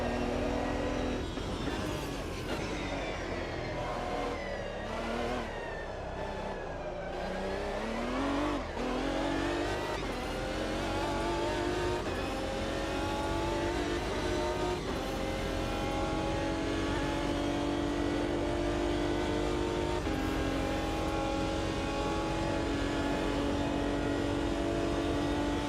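Race car engine heard from an exterior view in a racing sim, a loud sustained roar rising and falling through revs and gear changes, with brief dips while braking and no one talking.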